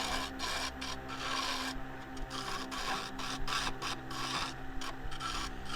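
A turning tool scrapes the inside of an 8-inch claret ash snack bowl on a lathe, working the tip and wing across ridges at the bottom. It makes a steady, close, rasping friction over a constant motor hum.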